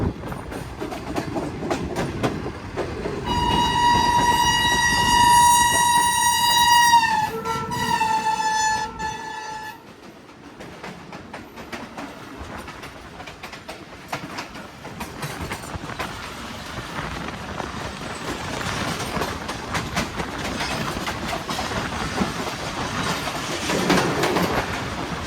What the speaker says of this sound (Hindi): हमारे सामने से आ रही है 10 डाउन अल्लामा इकबाल एक्सप्रेस